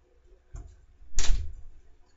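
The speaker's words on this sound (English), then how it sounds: "So, let me just shut my door." A door shuts in the video game Minecraft: a soft knock, then a louder, fuller wooden thud about half a second later, heard alone against near silence.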